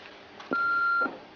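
A single electronic beep from a phone signalling a new message, a steady tone held for about half a second over quiet room tone.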